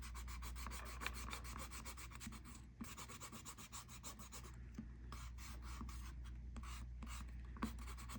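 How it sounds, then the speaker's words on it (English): An eraser rubs over paper to remove pencil lines beneath dried ink on a Zentangle-style fish drawing, a quiet, close scrubbing made of repeated short back-and-forth strokes with brief pauses between passes. "I'm going to take my eraser and I'm going to erase the pencil lines as long as my ink is dry"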